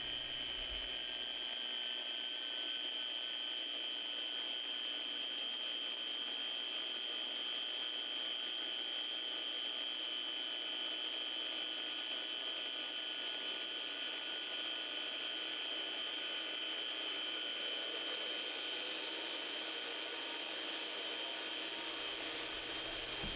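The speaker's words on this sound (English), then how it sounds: "We're going to run the polisher down through and back with the same pressure, same polisher speed" A Rupes long throw polisher with a microfiber pad runs on hard clear coat, a steady whining motor hum that holds evenly for the whole stretch with no talk.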